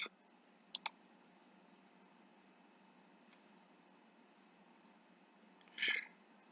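A computer mouse gives a quick double click, then later a single faint click, all crisp and close in an otherwise near-silent room, with a brief louder rustle near the end.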